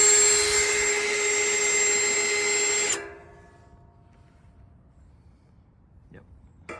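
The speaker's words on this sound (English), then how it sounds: "this 1/2 inch bit has a little starter in it, so I don't need to pre-drill" A power drill with a 1/2 inch bit bores a hole for a trailer hitch receiver on a VW ID. Buzz, a loud steady whine that stops abruptly, followed by quiet and a faint knock.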